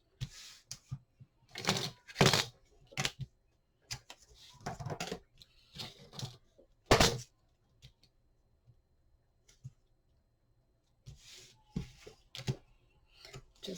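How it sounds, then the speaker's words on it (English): Score tape being applied to a paper hinge while crafting a mini album, a close series of soft crinkles, taps and rustles in irregular bursts separated by quiet pauses, with no talk. "apply score tape to your first hinge"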